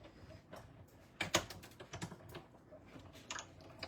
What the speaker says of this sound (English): And very slowly run it through my cut emboss machine.